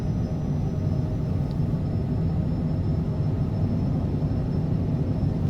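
Airplane engines at full takeoff power during the takeoff roll, a loud, steady, broadband roar that holds constant throughout with no speech.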